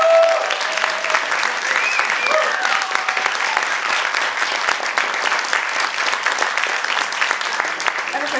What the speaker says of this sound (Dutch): geef hem een heel daverend applaus